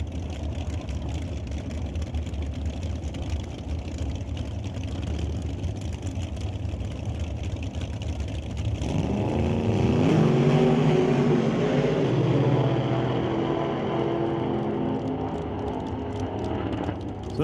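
Drag racing cars idle at the staging lanes, among them a 1971 Chevelle, with a steady rumbling engine drone that swells louder and rougher partway through, heard outdoors with no talk.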